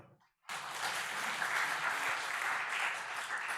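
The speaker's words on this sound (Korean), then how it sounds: "하나님께 영광의 박수." Church congregation applauding during a Sunday worship service, loud sustained clapping that bursts in after a brief quiet moment and continues steadily throughout.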